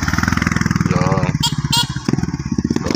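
A nearby motorcycle engine runs with a loud, rapid, chugging putter on a road where a motor grader is working, with a brief voice heard over it.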